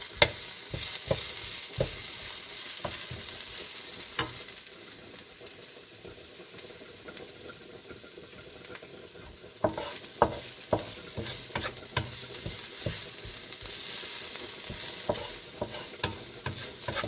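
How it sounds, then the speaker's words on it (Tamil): Coconut and rava dry-roasting in a pan, stirred steadily with a spoon: a soft continuous sizzle broken by frequent scraping clicks of the spoon against the pan, close and alone with no talking. "இது நல்லா கொஞ்சம் சவக்க வறுத்தரலாம்"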